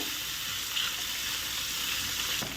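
Kharda paste hitting hot oil with cumin and asafoetida, a steady close sizzle and frying hiss that holds evenly throughout, with faint stirring clinks.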